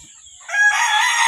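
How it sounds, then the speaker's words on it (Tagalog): A Golden Boy sweater fighting cock crows close and loud, a single bright call rising after a brief quiet start and holding to the end. "Gandang uri ng manok."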